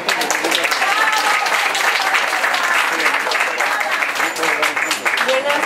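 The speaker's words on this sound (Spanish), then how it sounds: "Les pido un fuerte aplauso para María Antonieta Ramírez Torres." An audience at an outdoor community market event gives a sustained round of applause, dense and continuous clapping filling the space, close and loud throughout.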